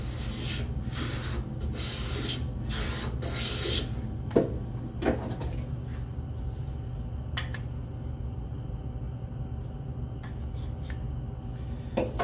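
A hand plane draws a long continuous shaving down the middle of a squared wooden board for a spice rack: several close, rasping strokes at first, then quieter scrapes and light knocks over a steady room hum.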